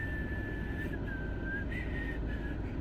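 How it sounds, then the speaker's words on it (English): A thin, high-pitched whistle line, typical of West Coast hip-hop, wavers over a dense, steady hip-hop beat, sliding between a few notes. "I don't love that whistle, and it's commonly used in a lot of West Coast beats."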